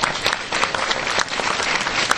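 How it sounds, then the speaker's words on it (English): Audience at a Star Wars stormtrooper convention panel breaks into a dense round of applause, steady and close, filling the whole short stretch with clapping. "Round of applause."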